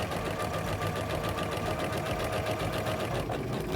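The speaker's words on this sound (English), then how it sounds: "I'm going to sew forwards and backwards and sew to the end." A sewing machine runs continuously, stitching a French seam in fabric, with a steady, fast mechanical whir held at an even level close to the microphone.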